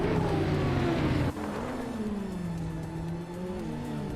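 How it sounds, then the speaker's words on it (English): A 2011 Lamborghini Aventador with a V12 engine races in a video game, its engine note loud and sustained, dropping sharply then climbing again as it shifts and accelerates, with other engines behind. "Bozzo is leading in a 2011 Lamborghini Aventador, a car known for its aggressive V12 sound and sharp handling"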